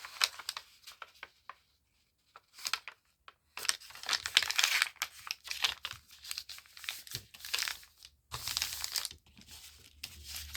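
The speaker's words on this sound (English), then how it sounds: "Just put a fold into a page. All delightfully crinkly." A blank paper page being folded, crackling and crinkling in bursts of sharp rustles separated by short quiet gaps, close up and with no voices.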